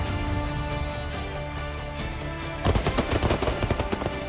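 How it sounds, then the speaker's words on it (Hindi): Gunfire from a Tavor X-95 rifle used by Indian special forces, a rapid burst of sharp cracking shots in the second half following a steadier sustained tone, loud and without speech. "ये है टैवोर X-95 जो इंडियन स्पेशल फोर्स के पास होती है।"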